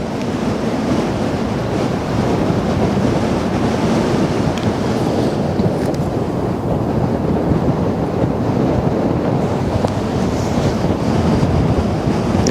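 Strong wind blows at a waterfront on the Westerschelde in the Netherlands, producing a steady roaring rumble and buffeting on the microphone, with surf-like noise throughout and no talk.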